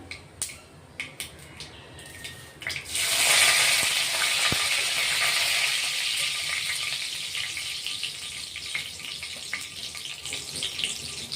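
Curry leaves drop into hot oil with cumin and burst into a loud, bright sizzle that starts abruptly after a few quiet clinks, then settles into a steady frying crackle lasting to the end.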